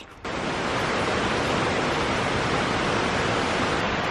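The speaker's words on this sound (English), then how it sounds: "We're sitting by the waterfall to have some lunch." A steady, dense roar of falling water fills the air beside a waterfall on the forest hiking trail from Magome to Tsumago in Japan's Kiso Valley, starting abruptly and holding constant and close without any talk.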